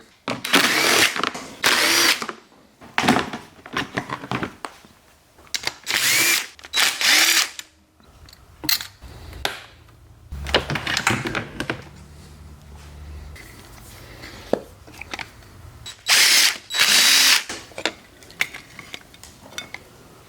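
Power tools and hand tools taking apart a 2008 Honda CRF250R dirt bike engine for intake valve replacement, loud close drill-like bursts alternating with metallic clinks and quieter pauses.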